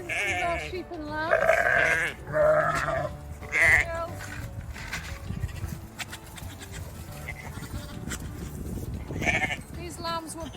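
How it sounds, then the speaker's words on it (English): Sheep and lambs bleat on a farm, several wavering cries overlapping near and loud at first, then scattered calls over steady background shuffling. "So these are sheep and lambs."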